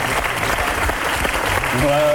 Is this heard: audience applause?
yes